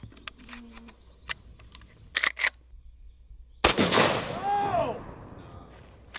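A .45-70 lever-action rifle fires in a video game: several sharp separate shots over faint background, then a loud burst with a long ringing decay, and a voice exclaims once.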